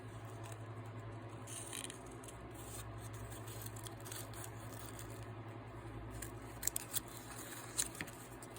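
Scissors being handled at a craft table; faint, quiet clicks and light metallic scraping over a low steady hum, with a few sharper snips toward the end.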